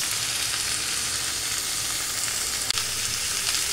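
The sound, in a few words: strained cabbage added to hot oil in wok, frying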